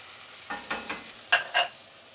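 Garlic hits a hot pan already holding celery, cooked for braised beef short ribs, giving a few short sizzling bursts with stirring, the last two loudest and sharpest.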